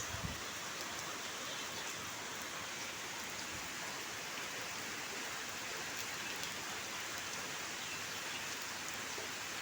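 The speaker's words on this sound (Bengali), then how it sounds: "দেখো প্রচুর বৃষ্টি হচ্ছে কদিন থেকে, কলকাতাতে না প্রচুর বৃষ্টি হচ্ছে।" Heavy rain falls steadily in Kolkata, an even, dense patter of drops on surfaces heard at a moderate distance, unbroken and without voices.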